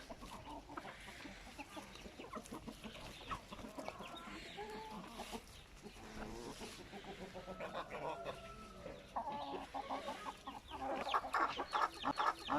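Chickens cluck and murmur continuously in a busy, noisy setting, with calls from an eight-month-old rooster rising above the steady background din.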